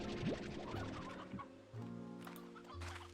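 Chickens in the video game Slime Rancher 2 cluck and gobble in a busy overlapping flock, short bursts layered over steady in-game background tones, fairly soft with no talk.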